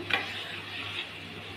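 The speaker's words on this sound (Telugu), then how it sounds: "ఈ కరివేపాకు ఇలా వచ్చే వరకు వేయించాలి" Curry leaves fry in hot oil with a soft, steady sizzle, fairly quiet and close, with a faint clink near the start.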